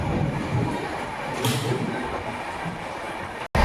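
A train runs along tracks through tea gardens on the way to New Jalpaiguri near Darjeeling, a steady loud rumbling roar with a brief dropout near the end and no talking.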